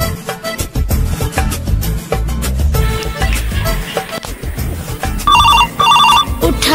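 A telephone rings repeatedly during an outgoing call to a mason, in clipped electronic bursts with short gaps, loud and close, over a busy background of other sounds.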